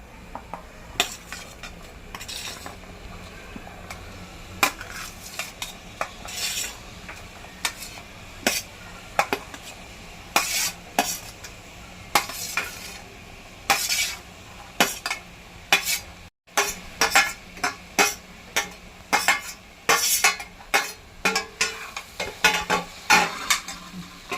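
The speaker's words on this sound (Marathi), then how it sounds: "ह्याच्यात आपण ह्या भाज्या घालूया" Mixed vegetables for a traditional Bhogi dish stirred in a pan with a metal spoon, frequent sharp scraping clinks and taps over a soft steady sizzle, close and rhythmic throughout with no talking.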